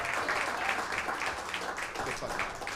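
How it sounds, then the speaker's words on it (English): A comedy club audience applauding between stand-up sets, a moderately loud, rolling patter of clapping from a modest crowd, uneven in strength and with no voices on top. "Clap it up, clap it up."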